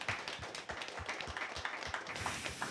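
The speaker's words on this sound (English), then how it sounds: "Please applause." A small audience claps at the close of a panel discussion, a fairly faint, even patter of many hands with no voices over it.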